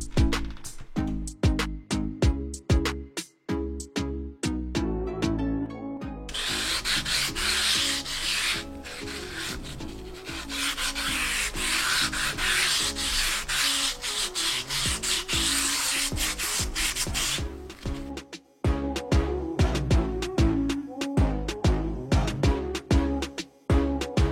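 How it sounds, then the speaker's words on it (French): Rhythmic, close back-and-forth rubbing as a steel wheel rim is wet sanded with a water-soaked 180-grit abrasive roll, a long continuous stretch of harsh scraping between choppier strokes. "Avec le rouleau de 180 de chez Action, je le trempe dans l'eau et j'essaye de faire un semblant de finition de ponçage."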